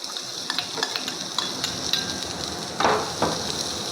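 Chopped onions with cumin seeds and kasuri methi sizzle in a hot pan while a spoon stirs and scrapes, with a louder burst of frying near the end as more onion goes in; no one speaks.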